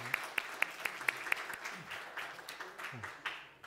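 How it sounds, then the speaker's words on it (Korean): A church congregation at a Sunday service claps in encouragement, a burst of sharp, fairly even hand claps at first that thins into a looser, softer patter with faint murmuring. "우리 수고하신 세 분 또 인도한 우리 최미 사모님 다시 수고했다고 격려 박수 하겠습니다."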